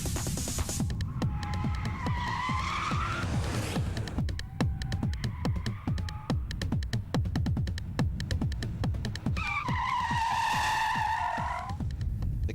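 A Toyota Supra on a race car test circuit, its engine droning steadily while the tires squeal and skid in long wailing bursts through hard cornering, loud and continuous.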